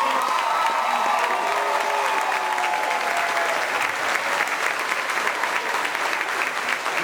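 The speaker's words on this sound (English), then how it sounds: "Let's show our applause" Sustained audience applause at a 2017 Team G graduation ceremony, a dense, even wash of many hands clapping that fills the whole stretch, with faint crowd voices and a few cheers in the room.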